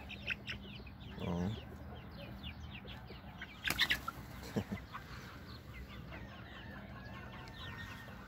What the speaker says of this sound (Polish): Kurczaki.